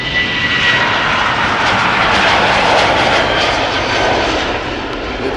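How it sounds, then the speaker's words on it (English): A KLM Boeing 737-700 jet airliner at Schiphol Airport makes a loud, steady engine roar that holds for several seconds, with no voices and no other sounds on top. "This is KLM flight 1443 to Aberdeen."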